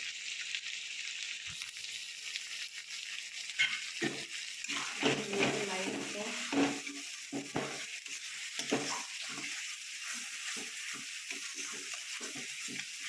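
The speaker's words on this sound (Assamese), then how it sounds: "এতিয়া মছলাখিনি ধুনীয়াকৈ ভাজা হৈ গ'ল, ইয়াত তেল এৰি দিছে মছলাৰ পৰা।" Masala spices with turmeric, red chili and salt sizzle in hot oil for a chicken liver curry, a steady fry broken by repeated scraping and stirring of a spatula in the pan.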